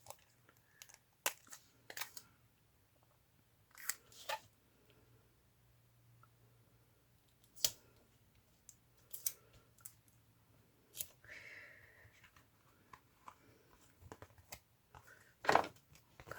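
Scissors snipping excess paper from a handmade journal, sparse sharp clicks and crisp cuts spaced out over near silence, close and quiet.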